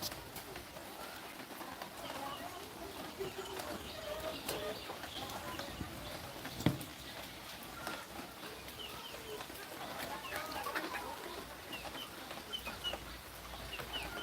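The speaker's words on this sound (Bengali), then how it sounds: "পাশাপাশি মুরগিগুলো ছেড়ে দিয়ে আসলাম" Chickens outside on a farm, faint scattered clucking with a few distant bird calls over quiet rustling ambience, no clear speech.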